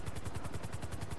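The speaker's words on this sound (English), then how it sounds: "Come on, you stupid helicopter." A helicopter in GTA Online with its rotor chopping in a fast, steady rhythm, fairly faint and heard alone.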